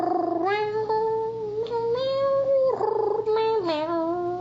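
A man imitates a cat with a drawn-out, wavering yowl, rising and falling in pitch across several connected cries, close and clear, sounding much like a real cat.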